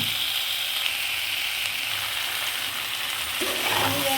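Ground spice paste sizzles and crackles as it fries with cauliflower and potato, a steady close hiss with some clinking scrapes near the end and no talk.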